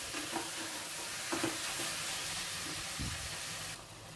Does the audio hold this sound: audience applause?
no